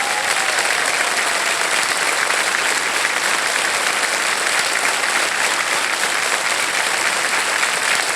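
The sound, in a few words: studio audience applause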